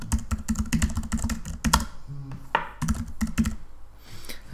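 Fast, crisp keystrokes on a computer keyboard as a name is typed, in close, steady bursts with a short pause in the middle before the tapping resumes.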